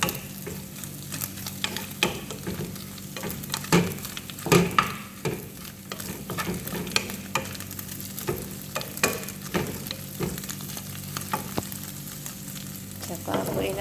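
Fried rice seasoned with chili powder and crushed black pepper is stirred in a pan, a spatula scraping and clattering in an uneven rhythm over a steady close sizzle, with no talking.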